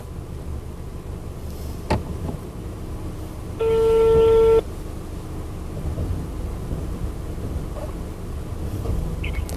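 A telephone call gives a single clear electronic tone lasting about a second, heard outdoors over a low rumbling wind-like background with an isolated knock just before it.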